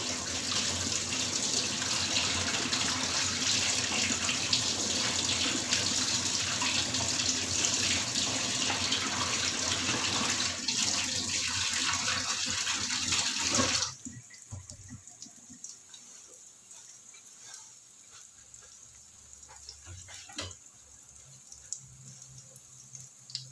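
Tap water runs steadily into a kitchen sink during hand washing, a loud continuous splash that stops abruptly partway through, leaving a quiet room with faint drips and small handling noises.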